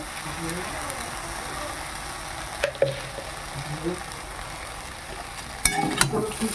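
Vegetable chowmein with a little sugar added is tossed and stirred in a sizzling pan, a steady fry punctuated by a few sharp scraping clicks of the spatula.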